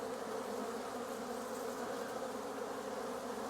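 Honeybees in an opened hive at an apiary, seen as the brood nest is exposed: a dense, steady, close buzzing hum from many bees with no break and no voices.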